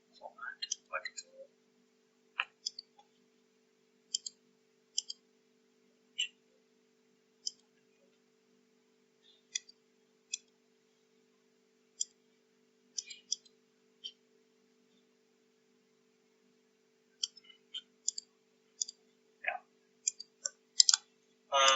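A computer mouse clicks in scattered single and double clicks spread across about twenty seconds, crisp and close in a quiet room, with a faint steady hum underneath and a brief burst of noise at the end.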